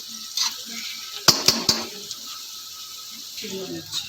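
Masala being roasted and stirred in a pan at home, quiet scraping and clinking of a utensil with three sharp metallic knocks against the pan, faint sizzle underneath.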